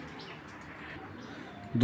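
A pair of Python breed pigeons coo softly and close by in a steady, low murmur, with a brief louder bump at the very end.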